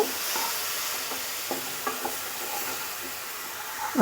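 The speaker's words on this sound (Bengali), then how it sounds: "জলে গুলে রাখা মশলাটা আমি সামান্য কষিয়ে নেব তেল তো বেশি দেওয়া নাই এত একটু কম আগুনে এটাকে কষিয়ে নেব" Spice paste that was mixed with water frying in a wok over low heat with little oil: a soft steady sizzle with repeated scraping stir strokes, close up and without talk.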